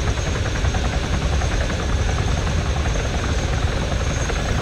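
Helicopter in the military game Arma III, a steady close rotor thrum and engine whine droning loudly and continuously without pause.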